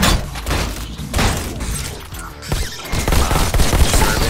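Loud, dense gunfire in the VR shooter Robo Recall, rapid bursts and crackling shots overlapping continuously with impacts and mechanical clatter throughout.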